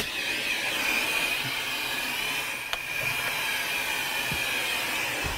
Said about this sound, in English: it is now pulling through the vacuum's hose that goes to the nozzle